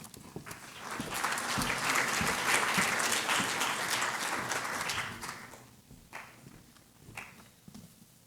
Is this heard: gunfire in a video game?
no